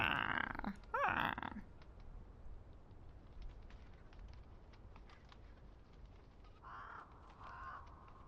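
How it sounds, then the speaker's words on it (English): Crows cawing in the video game Ash of Gods: Redemption, a few harsh calls close by at the start, then quieter distant caws later over a low ambient background. "Yeah, I saw the crows in the distance."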